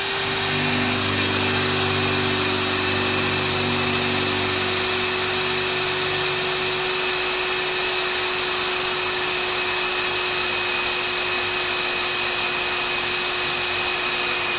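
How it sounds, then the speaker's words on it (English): A handheld power drill bores through a car disc brake with a steady, loud motor whine, running continuously. A low grinding tone fades partway through as the bit works into the metal. "It's a disc brake off a car."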